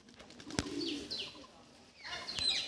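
Pigeons coo softly nearby, with a few short chirps and a sharp click or two in between, against quiet background noise.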